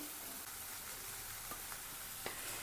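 Vegetables tossed into tomato frying in a pan for a ragi soup, giving a steady soft sizzle with a few faint clinks and stirs, no voices.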